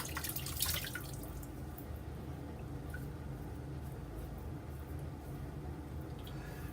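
A razor is rinsed under a running tap, giving a steady, faint wash of water with a brief louder splash near the start.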